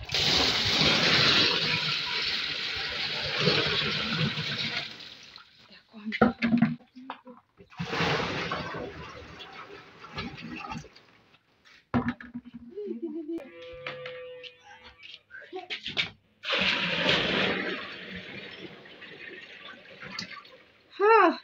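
Water poured by hand into the tub of a village washing machine with no piped supply, broadband gushing and splashing in bursts separated by short pauses, close and fairly loud, with brief speech between pours.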